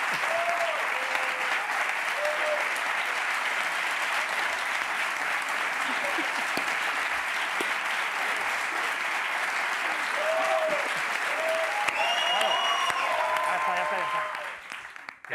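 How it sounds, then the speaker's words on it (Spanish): A studio audience at a Spanish late-night talk show breaks into sustained, dense applause that continues steadily for about fifteen seconds before fading out, with voices faintly audible underneath. "Empezad a aplaudir vosotros"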